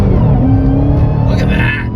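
Dodge Challenger Redeye on Atturo AZ810 tires accelerating at full throttle, a loud close engine roar that holds steady and then eases slightly, with a voice talking over it.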